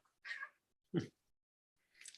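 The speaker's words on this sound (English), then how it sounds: "I'm going to constantly have a problem with this cat" A domestic cat meows three times nearby, short separate calls with quiet gaps, the last one softer and higher, with no talking over them.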